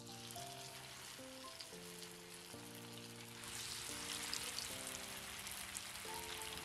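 Bird's nest snacks frying in hot oil, a continuous sizzle under a steady background melody of sustained notes, growing slightly louder partway through.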